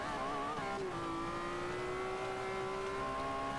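In Forza Motorsport 5, a car engine drones loud and steady with a gradually climbing tone, a sustained near roar as the car accelerates.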